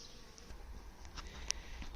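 Honey bees buzz faintly around hives set out near buckwheat fields, a quiet steady hum with scattered individual bees passing close by.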